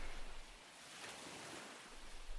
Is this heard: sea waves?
yes